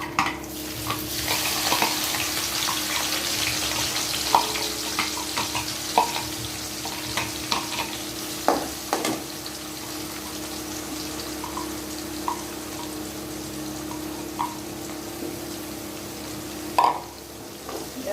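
Sliced onions fry with cumin seeds in a hot pan, making a steady, continuous sizzle with scattered stirring scrapes and a few sharp clinks, close and fairly loud.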